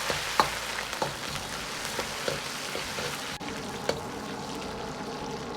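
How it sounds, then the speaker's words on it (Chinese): Spices drained of water are stir-fried with lard in a wok over medium-low heat after scallion, ginger and garlic, giving a steady close sizzle and crackle with scattered sharp pops and occasional spatula scrapes. "炒出香料里边多余的水分"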